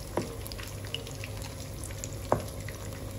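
Fish pakora coated in gram flour batter fries over a low flame, giving a steady, soft hiss of oil with a couple of sharp clicks from a utensil.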